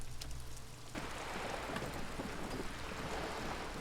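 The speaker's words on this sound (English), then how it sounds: "All around you, rain keeps falling down." Steady rain falling in Disco Elysium, a dense, even hiss of drops on surfaces that swells after a quieter opening and continues unbroken with no voices.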